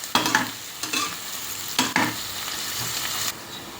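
Onions and green chillies sauté in a pan under a steady sizzle, and a spatula stirs and scrapes in three or four distinct bursts, close and fairly loud, no voices.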